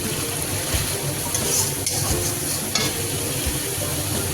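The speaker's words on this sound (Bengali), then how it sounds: "টমাটোটা দিয়ে ভালো করে নেড়ে নিতে হবে।" Tomato and spices, including coriander powder, red chilli powder and turmeric, are stirred in a pan for Kashmiri-style aloo dum, making a continuous close scraping and sizzling with light clinks and no talk.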